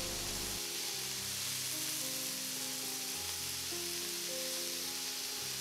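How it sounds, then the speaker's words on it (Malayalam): Chicken kebab pieces sizzle and fry steadily in a hot grill pan, a continuous crackling hiss with light stirring clatter throughout, fairly close with no talking. "ചിക്കൻ്റെ എല്ലാ സൈഡും നല്ലതുപോലെ ഗ്രില്ലായി കിട്ടുന്നതിനായിട്ട്"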